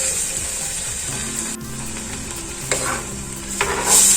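Ground coconut paste poured into a simmering egg curry gravy and stirred, with a steady close-up sizzle and the scraping swish of a spoon moving through the thickened sauce in a pan.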